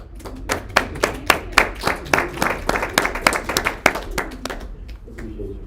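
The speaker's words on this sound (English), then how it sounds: "would everyone give a round of applause to Mary for her participating in Wine Down" A small audience gives a round of applause at a casual Wine Down with Quan wine event at IowaEats. Individual claps are loud and close, with no speech, and they thin out before stopping.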